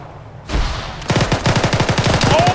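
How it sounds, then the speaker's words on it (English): Heavy gunfire in ArmA 3: a single loud shot, then a sustained rapid burst of automatic fire, its evenly spaced rounds hammering close and loud. "we're taking heavy fire from the compound to our direct south"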